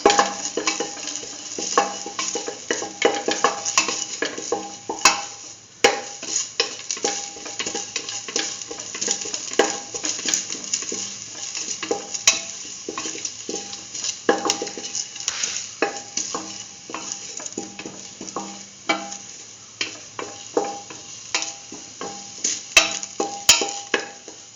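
Potato, soya chunk and yellow rice being stirred and mixed in a pot, with continuous scraping and clinking of a spoon against metal over a low sizzle, close and busy.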